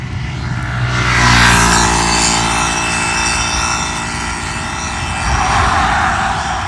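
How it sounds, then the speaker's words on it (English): A low aircraft pass over a town on Hatteras Island, North Carolina: a broad, loud engine roar swells in the first seconds, holds steadily, then surges again near the end, with no talk over it. "I'm surprised they're allowed to do a low passover like that"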